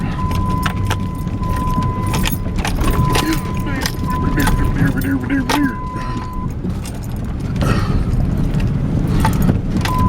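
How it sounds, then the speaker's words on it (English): A vehicle drives over a rocky dirt road on hilly property near Trinidad, with steady close rumble, rattling and jangling bumps throughout, plus faint voices underneath. "I mean, you're just driving on rock."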